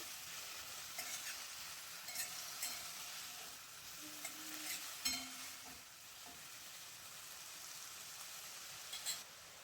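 Chopped tomatoes and soaked cashews sauté in hot oil in a wok, giving a steady low sizzle with occasional stirring scrapes, heard up close with no talking.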